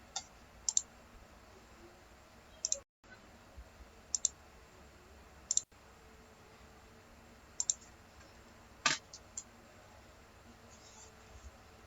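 Sharp mouse clicks, about a dozen, come singly and in quick pairs over a quiet room hiss while software is installed on a Windows computer, with no talking.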